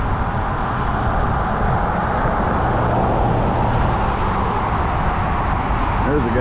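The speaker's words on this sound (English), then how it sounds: "A little noisy with the traffic going by." Road traffic streams past a trike rider on the Ark River Path, a loud continuous roar of passing cars and larger vehicles with no pauses.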